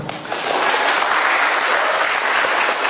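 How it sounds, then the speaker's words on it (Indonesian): An audience at a college general lecture in Cirebon, Indonesia, bursts into loud, dense applause that swells within half a second and holds steady to the end. "Tepuk tangan dulu."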